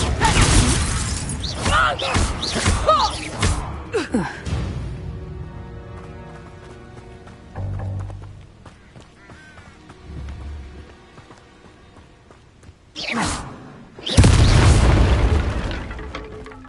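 Spell blasts from Hogwarts Legacy, fire and explosive curses in a duel, burst loudly with booming, shattering impacts at the start and end, separated by quieter ringing decay.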